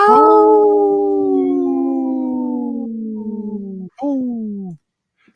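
People on a radio show imitate wolves with their voices: a long, loud, falling howl, then a brief pause and a second, shorter howl.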